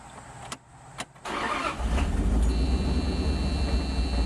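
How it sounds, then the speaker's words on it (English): An engine with its automixer valve fully closed, heard in a running-engine test: a couple of sharp clicks, then loud cranking that builds into a steady, rough, close-up roar. "you can watch what happens when I try and crank it up"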